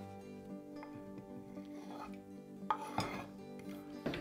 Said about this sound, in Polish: I teraz wszystko jeszcze raz dokładnie mieszamy.